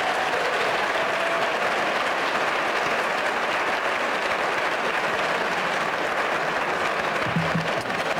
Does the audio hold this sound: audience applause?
yes